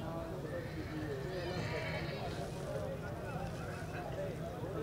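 Horses, a mare and her foal, neigh and move about under ongoing talk from people nearby, with faint hoof sounds and a steady outdoor background, all fairly quiet.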